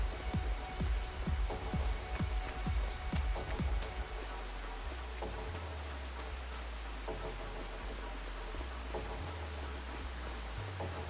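Steady rain patters across the scene in Farming Simulator 25, a dense hiss of drops that runs throughout, with low engine rumble of farm machinery in the first few seconds and a shifting low drone afterward.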